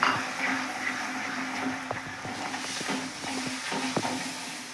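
Tomato puree stirring into a sizzling masala in a pan while chole is cooked, with a steady frying hiss under a low hum and scattered soft spoon scrapes and clicks.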